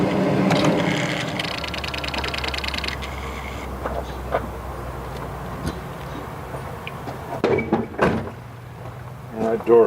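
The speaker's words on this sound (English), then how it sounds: "That door sounds like it needs oiled." A car door on a 1998 Buick Century Limited creaks and squeals as it swings, dry and in need of oiling, followed by scattered knocks and clunks nearby.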